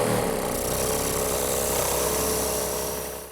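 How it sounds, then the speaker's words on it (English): A small sanding belt fitted to a scroll saw runs against wood in a steady, continuous whir with a gritty hum, loud and close, fading slightly at the end. "Now I've switched to this little sanding belt, which is available for scroll saws."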